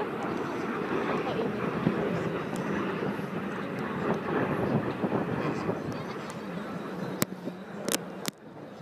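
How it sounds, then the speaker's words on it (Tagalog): Jets of the Breitling Jet Team roar past at an airshow with a loud, sustained broad engine rush that gradually fades, accompanied by wind buffeting and a few sharp clicks near the end. "dito mo narinig yung tunog pero dito mo nakikita yung jet"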